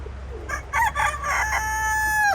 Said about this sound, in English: You can hear one of my roosters in the background